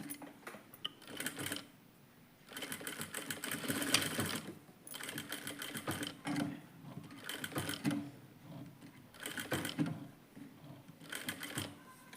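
A sewing machine stitches along the edge of a shirt collar in several bursts of rapid mechanical whirring, each lasting a second or two, separated by short quiet pauses, close and clear.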